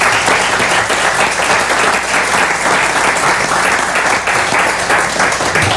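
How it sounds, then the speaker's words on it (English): Loud, dense clapping from an audience at a city council meeting, continuous and even throughout, heard close with no talk over it. "let's clap"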